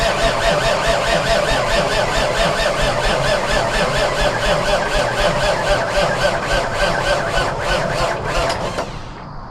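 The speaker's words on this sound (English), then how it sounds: "I'd rather have it turn over a little bit and then I might have to shoot it with deeper just to get it started." An old, rusty Mack R Model truck engine cranks over steadily with a rhythmic churning turnover for about nine seconds, loud and close, before it cuts off without catching.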